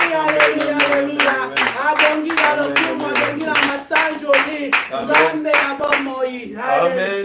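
A church congregation claps in a steady rhythmic beat during a French-language Sunday worship service, with singing and voices over the clapping.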